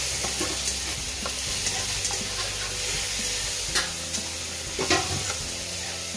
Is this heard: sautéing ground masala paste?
yes